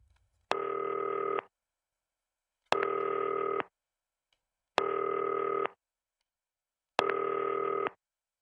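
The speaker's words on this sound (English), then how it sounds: "Oh, that's my phone." In the video game Not for Broadcast, a telephone rings in four evenly spaced electronic bursts, each about a second long and separated by silence, loud and close with no talking.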